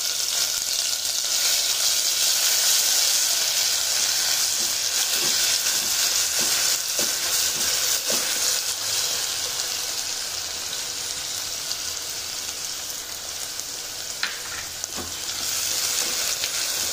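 Soybean chunks cook in a pot of gravy for soyabean bhaji, giving a steady close bubbling and sizzling with scattered small pops and no talking.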